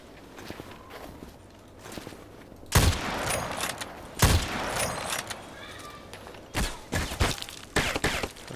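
Gunfire from an RPK-74 machine gun in the online shooter Contract Wars rings out in several sharp bursts, with quieter in-game footsteps and movement between the shots.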